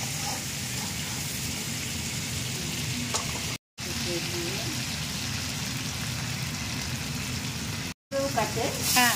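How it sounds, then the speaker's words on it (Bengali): Prawns frying over full flame in a pan, a continuous close sizzle with occasional stirring scrapes, steady and moderately loud throughout. "একদম ফুল ফ্লেমে মাছগুলোকে ভাজা করে"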